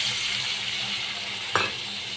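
Masala spices for a bhola fish curry frying in a pan, a steady close hissing sizzle broken near the end by a brief clatter of stirring.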